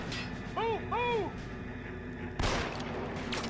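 Gunfire in the video game L.A. Noire, a couple of sharp shots and a crash amid game background noise, with a shouted voice briefly heard.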